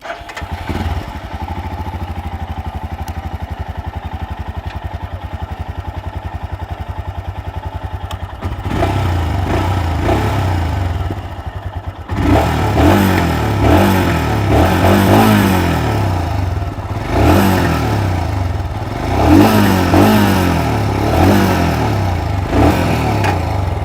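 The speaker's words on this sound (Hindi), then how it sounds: "इसका जो एग्जॉस्ट है ये भी काफ़ी अच्छा थ्रोटी एग्जॉस्ट है" Royal Enfield Himalayan (2021) motorcycle engine idling with a throaty exhaust, then revved repeatedly in close, loud bursts that rise and fall over a steady thumping idle.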